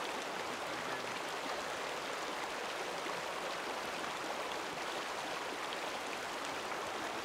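Water flowing in Grayling Creek, a backcountry stream, producing a steady broadband rushing hiss that stays even and uninterrupted throughout, fairly quiet, with no voices.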